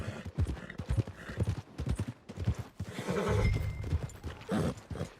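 Horse hooves clip-clopping in uneven bursts with a neigh rising partway through, from the Red Dead Redemption 2 video game, close and fairly quiet.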